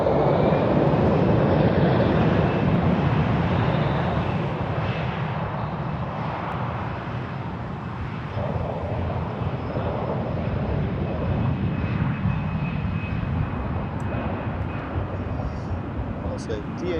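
Discover Airlines airplane at Frankfurt Airport, a loud, steady jet engine roar filling the whole stretch and easing slightly midway, with a faint voice now and then underneath.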